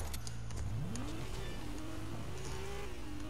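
A Ferrari engine in Fortnite revs up, its pitch sweeping upward then holding at a steady drone, fairly close and constant throughout.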